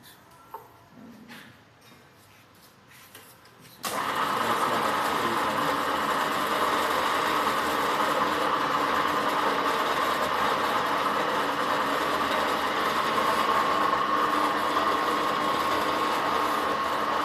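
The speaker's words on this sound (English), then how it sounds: "this is the machine that's being used to the windings" A coil winding machine used to rewind coils for a 500HP induction generator hums steadily and loudly after a quiet start, running on without a break in a workshop.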